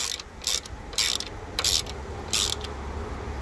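A hold-down screw on the battery of a 2014 Toyota Camry is tightened, giving four short, bright ratcheting bursts at a steady rhythm, close up and fairly loud, with quiet pauses between them and no talking.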